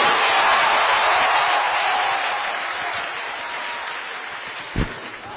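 An audience breaks into sustained, dense applause before a singing contest result is announced at the Eain Mat Sone Yar Season 2 finale, loud at first and slowly tapering, with a brief thump near the end.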